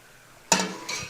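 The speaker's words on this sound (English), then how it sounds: "When I first put the pasta in, it was almost frying in the oil" Pasta frying in oil in a pan being stirred: a sudden close sizzle and scrape that flares up, eases, then swells again with a second stir.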